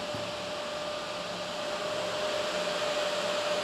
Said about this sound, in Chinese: 风扇手动拉满